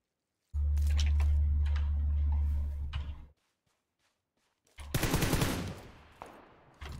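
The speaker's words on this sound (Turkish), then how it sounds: "Arkadaki adam ona sıkıyor." Gunfire from PUBG Lite on the Miramar map: a long, sustained automatic burst rings out, then stops into near-silence, and a second burst of rapid shots follows and fades, heard at a moderate distance.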